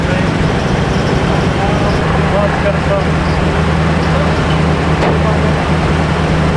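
An old Chevy pickup truck engine runs steadily with a low, continuous rumble as the clutch is let out, with a constant broadband drone and no clear change in pitch.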